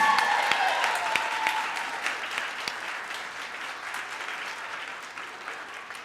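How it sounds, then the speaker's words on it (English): Audience applause at a 2016 graduation ceremony, steady and full at first, then slowly thinning out and fading over several seconds. "Let's give her another round of applause."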